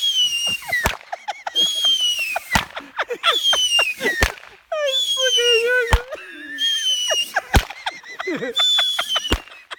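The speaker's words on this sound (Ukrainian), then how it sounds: "представляем вариант бюджетного фейерверка." Cheap New Year fireworks go off close by, with whistling rockets rising and falling in pitch, punctuated by sharp bangs and crackles in quick succession, with occasional voices.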